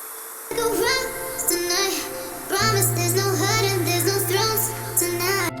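A background ambience layer from a melodic dubstep production gives off a dense, shimmering synth wash with warbling tones, and a sustained low bass drone joins partway through, all steady and fairly loud.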